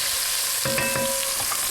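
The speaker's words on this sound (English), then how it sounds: "a teaspoon of tomato paste, give that a quick saute" Tomato paste sautés in a hot pan with a steady, dense sizzle, and a few brief scraping stirs come partway through, close and without talk.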